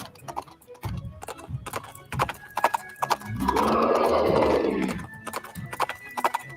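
Horses pulling a wagon clop along in a steady, close clip-clop rhythm, with a louder rushing burst of noise swelling through the middle before the hoofbeats carry on alone.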